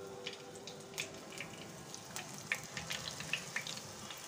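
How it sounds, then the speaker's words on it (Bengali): Spring onion pakoras fry in hot oil, giving a faint, steady sizzle dotted with scattered small pops and crackles close by, with no talking. "ভালো করে মাখিয়ে নিয়ে তেলের মধ্যে ছেড়ে দেবেন"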